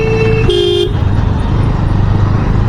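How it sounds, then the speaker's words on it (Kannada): City traffic at a signal in Vijayapura, with a loud steady engine rumble as a vehicle moves through and a brief car horn toot near the start. "ಸಿಗ್ನಲ್ಲಿಂದ ನಮ್ಮ ಗಾಡಿ ಪಾಸ್ ಆಯಿತು."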